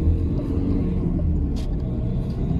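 A manual car pulls away from a junction with a steady low engine rumble that holds at an even level throughout and never surges hard, heard close up from inside the cabin.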